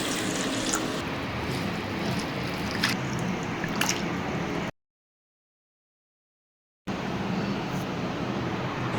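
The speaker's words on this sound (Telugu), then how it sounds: "ముందుగా సగ్గుబియ్యం తీసుకొని ఒక టూ త్రీ టైమ్స్ నీట్గా వాష్ చేసుకోవాలండి" Sago pearls are rinsed in water two or three times, with a steady wash of running, sloshing water and a few small splashes, broken by a short stretch of silence before the water sound resumes. No talking is heard.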